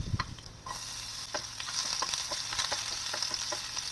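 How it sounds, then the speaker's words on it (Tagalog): Garlic and onion sautéing in hot oil in a kawali for pork giniling picadillo: a steady close sizzle with repeated scraping stirs, and no voices. "Nagpainit muna ako ng mantika sa kawali. Pagkatapos niyan, nagisa na ako ng bawang, sunod naman ang sibuyas."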